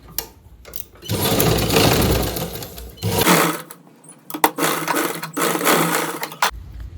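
A sewing machine stitches the side seam of a blouse. It runs loud and close in long, steady whirring stretches that break off briefly and then start again. No one speaks.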